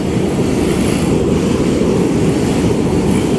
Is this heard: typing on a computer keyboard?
no